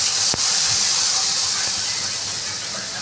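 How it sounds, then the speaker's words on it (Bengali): Spices hit a hot pan of frying onion and green chilli for a soybean and potato curry, giving a loud, steady hiss that fills the whole stretch with a couple of faint knocks underneath. "মশলাটা দিয়ে দেবো।"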